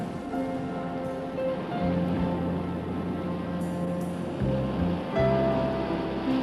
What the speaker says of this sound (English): it still churns through some rapids at more than 20 miles per hour